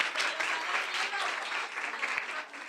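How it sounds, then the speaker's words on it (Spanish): An audience applauds at a lecture, steady dense clapping throughout at moderate level, no talking. "Ahora, vamos a darle un aplauso."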